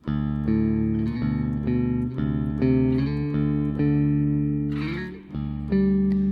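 A Fender Squier Classic Vibe Bass VI guitar plays a sustained, full-bodied chordal riff with all three pickups on, notes struck in a steady rhythm and ringing thickly.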